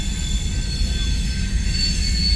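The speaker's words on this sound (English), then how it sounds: "Great place to watch the trains" A freight train with Montana Rail Link heritage units on coal duty rolls past at Pacific Junction, Iowa. It makes a loud, steady, continuous rumble with high wheel squeal and ringing tones throughout.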